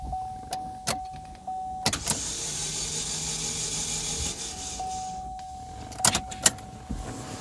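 An electric starter motor whirs for a few seconds without the engine firing, bracketed by sharp clicks and a faint steady electrical tone.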